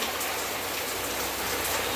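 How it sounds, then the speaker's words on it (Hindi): Heavy morning rain pours down in a dense, continuous hiss of drops hitting surfaces, loud and even across the whole stretch, with no voices. "हमारे यहाँ बारिश इतनी ज़ोरों की शुरू है"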